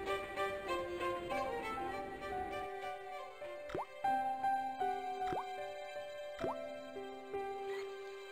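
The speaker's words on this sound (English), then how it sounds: "The faucet creaked, coughed, and spewed out a stream of rusty-colored water." An old faucet in the video game Broken Sword creaks and coughs, then spits rusty water in a run of separate drips and plops with tonal ringing, with no one talking.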